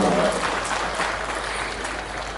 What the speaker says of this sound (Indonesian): Tepuk tangan dong untuk bupati, wali kota, gubernur